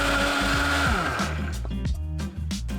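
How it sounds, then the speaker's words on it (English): A blender whirs steadily as it purées cheese sauce until smooth, its motor pitch stepping up and down as the load changes, loud and close and running alone without talk. "I'm going to blend this until it's super nice and smooth"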